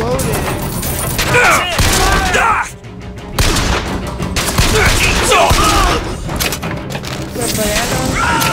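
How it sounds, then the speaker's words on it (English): Chaotic combat in the video game BioShock Infinite, with dense bursts of gunfire, thuds and explosive booms from enemies blowing up, loud and continuous, with a player's voice mixed in. "Man, these guys are exploding."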